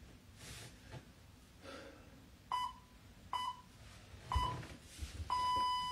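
A workout interval timer gives four short electronic beeps at uneven spacing, the last held a bit longer, fairly clear over a quiet room.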